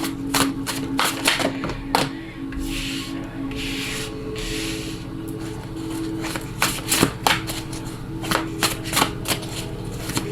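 Tarot cards are shuffled, handled and laid out on a table, giving a close, continuous run of soft rubbing, riffling and sharp taps.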